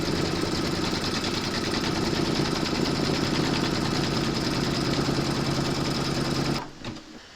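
An embroidery machine stitches a large koala appliqué in light grey thread, running as a fast, even, close mechanical chatter that stops abruptly near the end.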